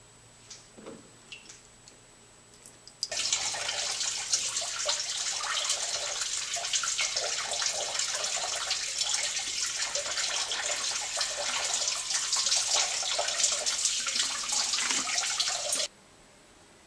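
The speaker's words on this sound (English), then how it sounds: "run water through the radiator until you see it running clear out the bottom" Water rushes steadily through a Honda Prelude radiator during a coolant flush, starting abruptly after a quiet moment and pouring continuously for about twelve seconds before cutting off, close and fairly loud.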